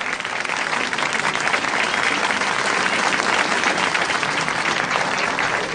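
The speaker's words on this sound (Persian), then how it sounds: "خیلی متشکرم از تشویق‌های شما" A large audience applauds at a live event, thick continuous clapping that stays loud and steady throughout with no voices rising above it.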